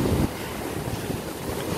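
Big ocean waves crash and wash near the microphone, a loud surge at the start settling into a steady roar of surf mixed with strong wind buffeting.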